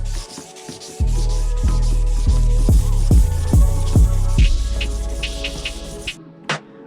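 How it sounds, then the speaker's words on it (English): Hand sanding a faded plastic headlight lens on a 1999 3000GT VR-4 with 1000 grit sandpaper: loud, close, steady rubbing strokes in a regular back-and-forth rhythm, ending in a brief pause and a short scrape. "Now we're gonna sand horizontal."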